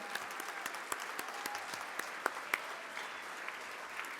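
An audience at the U.S. Hockey Hall of Fame induction celebration applauds members of the Hall of Fame, giving steady, moderately distant clapping that fills a large hall and continues evenly with a few sharper individual claps.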